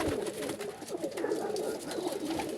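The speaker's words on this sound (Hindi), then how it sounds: "ये कबूतर हैं हमारे जी मेन कबूतर" Pigeons, a keeper's main flock, coo in low soft repeated throbs that fill the whole stretch, steady and fairly close, with no voices over them.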